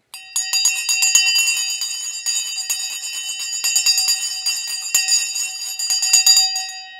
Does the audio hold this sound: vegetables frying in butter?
no